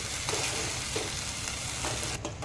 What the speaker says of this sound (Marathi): एक पाच मिनटं आपण हा मसाला मंद आचेवर परतून घेऊया